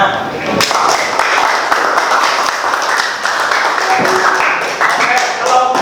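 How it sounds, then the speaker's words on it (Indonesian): Classroom applause for a student group presenting, a dense spread of claps lasting several seconds at steady loudness with faint voices mixed in. "Kasih tepuk tangan."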